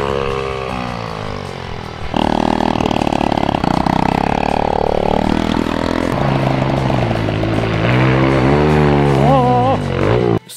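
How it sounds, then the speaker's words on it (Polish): A scooter engine held at full throttle screams loudly and continuously, its pitch rising and wavering through revs after a lower opening stretch, close by with no voices. "Jedzie na zaciętym gazie skuterem."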